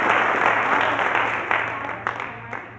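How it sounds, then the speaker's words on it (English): A conference audience at a Colorado opioid abatement keynote applauds regional grant recipients, dense steady clapping that fades gradually with a few louder individual claps near the end, while a low steady hum runs underneath. "give them a big round of applause"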